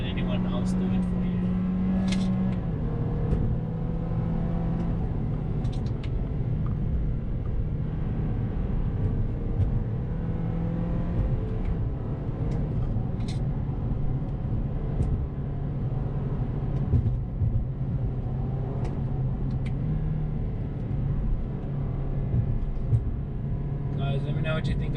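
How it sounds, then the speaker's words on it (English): A 2020 Toyota Corolla XR sedan with a 2-liter engine and CVT automatic drives a mountain pass, its engine a steady low drone with road noise throughout. "Doing a little mountain pass driving here."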